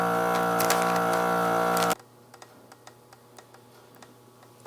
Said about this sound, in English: vacuum seal, and here we go.